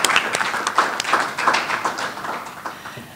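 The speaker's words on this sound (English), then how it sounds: "So can we give a little round of applause to Adriana for all her work?" An audience at a trade and climate change symposium in Durban gives a brief round of applause, with scattered, uneven claps that thin out over a few seconds in a conference hall.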